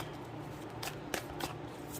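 A deck of tarot cards is shuffled by hand: a few quick riffling flicks close by over low room hum.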